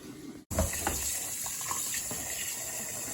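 Kitchen tap running cold water over cooked pasta shells: a click, then a steady, close rush of water splashing into a sink, continuous and fairly even, with no talk.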